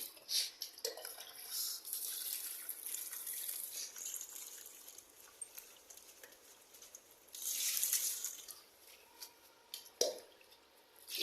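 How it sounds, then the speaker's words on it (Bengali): Leafy greens such as gram, taro and fenugreek leaves being rinsed under a running tap in a home kitchen sink, with steady trickling water, drips and soft squishing handling, swelling louder near eight seconds and with a splash near ten. "শাখাটা ধুচ্ছি"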